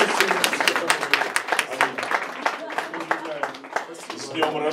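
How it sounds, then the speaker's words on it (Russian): A church congregation in Kyiv claps during a worship service, a lively, uneven burst of hand claps with some voices mixed in. "Аплодисменты Богу."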